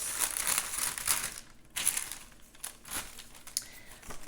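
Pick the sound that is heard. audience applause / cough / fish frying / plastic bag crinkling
plastic bag crinkling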